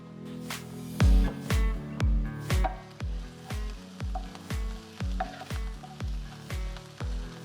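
Garlic sizzles in a pan for beef stroganoff, with a steady frying hiss broken by regular soft thumps as it is stirred, close and moderately loud, with no talk.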